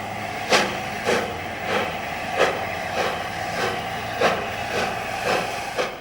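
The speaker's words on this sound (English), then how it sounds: "A4 Pacific 60034 Lord Farringdon departs with the 6:26 semi-fast for Doncaster and Hull." An A4 Pacific steam locomotive, 60034, departs with a semi-fast passenger train of elderly carriages, its exhaust beats coming in a slow, regular series of loud chuffs over a steady hiss, with no voices.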